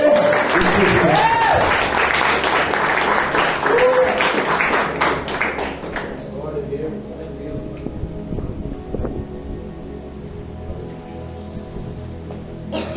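A church congregation claps together in praise, a dense wash of hands that holds loud for several seconds and then thins out, with a voice sounding over the start.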